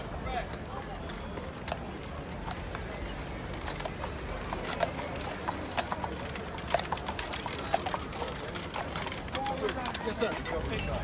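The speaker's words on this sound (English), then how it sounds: "Horse is coming out. Coming out." Horse hooves clip-clop on a city street during a funeral procession, a loose, uneven clatter sitting in dense crowd noise with people talking and calling out throughout.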